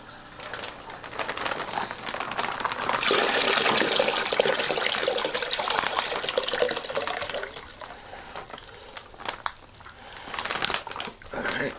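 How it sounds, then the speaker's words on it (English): Water pours into a wine fermenter, about five gallons for a Cabernet Sauvignon kit: a continuous hissing, splashing rush that swells loud, then tapers off with scattered drips and clanks, with no talk. "Add a little bit more water."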